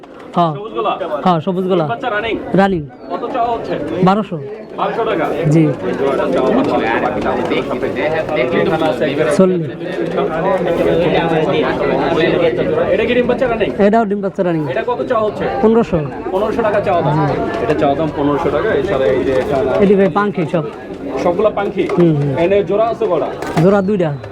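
Pigeons coo steadily at an open-air pigeon market in Bangladesh, near and continuous, with buyers and sellers talking and bargaining over them throughout.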